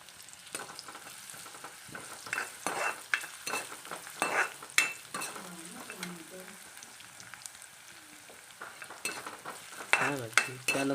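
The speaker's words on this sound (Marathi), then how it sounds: "हे लालसर होईपर्यंत आपल्याला हे कांदा भाजून घ्यायचा आहे." Chopped onion and garlic frying in a pan for kombdi vade, with a steady low sizzle broken by repeated scraping stirs of a spatula and a few clinks, at close range with no talk.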